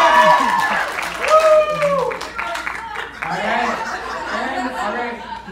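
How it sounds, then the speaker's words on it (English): Scattered clapping and cheering from a small talent-show audience mixes with chatter, chuckles and a speaking voice, strongest in the first two seconds and then thinning out under talk. "Can I get a round of applause for red?"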